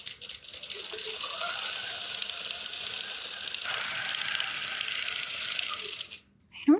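A computerized quilting sewing machine stitches a 1-inch grid across a quilt, producing a steady, fast mechanical rattle and whir that runs for about six seconds before stopping abruptly.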